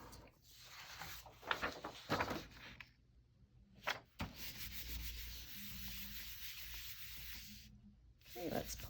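Print paper peeled away from a gel printing plate, a soft sticky rubbing rasp in a few short bursts, fairly close and moderately loud, with brief pauses between pulls.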